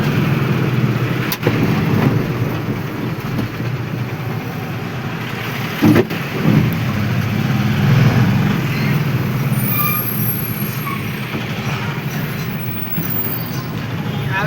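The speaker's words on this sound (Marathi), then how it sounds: "जी येवल्यावरून ट्रॅफिक येते ती ट्रॅफिक पूर्ण जाम झालेली आहे" Cars and trucks sit jammed on a highway, giving a loud, continuous rumble of idling engines with passing traffic noise and a couple of sharp knocks and hisses partway through.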